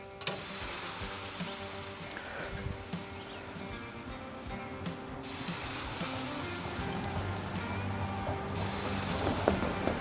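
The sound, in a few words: honey garlic shrimp skewers searing on Oklahoma Joe grill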